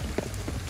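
Heavy rain in the video game Ghostwire: Tokyo, a dense steady patter of drops striking surfaces, close and constant with no voices over it.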